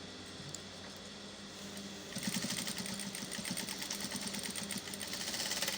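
A sewing machine closes a seam on a flare umbrella blouse, starting after about two seconds of quiet room tone and then running in a steady, busy mechanical whir close by.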